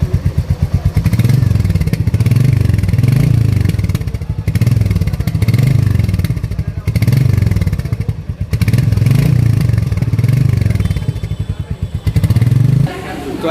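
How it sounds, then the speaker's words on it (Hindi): A Royal Enfield Meteor 350 motorcycle idles and revs after starting, its exhaust note loud and close with a steady thumping pulse that swells in repeated throttle blips, then cuts off near the end. "तो अब इसका एग्जॉस्ट नोट आपको सुना देते हैं।"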